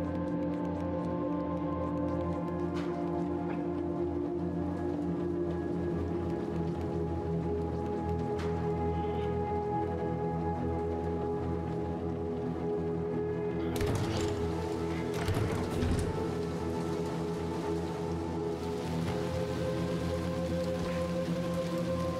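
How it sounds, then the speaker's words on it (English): Rain falls steadily in the video game Little Nightmares 2, a constant soft patter under a low hum and game ambience, with a brief burst of brighter noise partway through. "It's just the rain."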